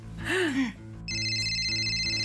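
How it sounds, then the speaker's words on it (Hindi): A telephone rings in a Hindi TV serial scene, an electronic ringtone of steady high tones that starts after a brief vocal sound and carries on at a constant level, loud and close. "अरे फोन पे फोन आ रहा है अम्मी।"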